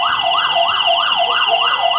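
An ambulance siren wails on a street in Hongdae, Seoul, at 3 a.m., a loud steady rising-and-falling electronic tone cycling about twice a second, close by and with no talk over it.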